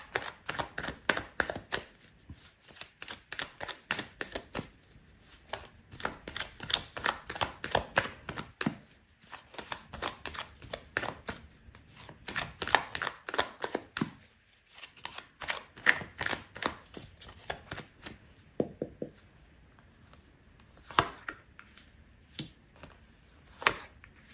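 Tarot cards being shuffled, a steady run of soft riffling flicks and taps that comes in dense bursts with short pauses, close and clear, with no talking.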